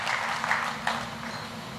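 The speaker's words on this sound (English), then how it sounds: "can we give Britam another round of applause" An audience claps at a corporate launch event for an insurance company's life assurance business, a dense roomful of hands with a few sharper bursts, steady throughout and without talk.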